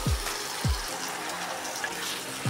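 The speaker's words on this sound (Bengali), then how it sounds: "আর এর মধ্যে দিয়ে দিচ্ছি একটুখানি জল।" Water is poured into a pot holding a chicken stock cube while cooking a Burmese dish, making a steady, close splashing wash with a few low gurgling bloops.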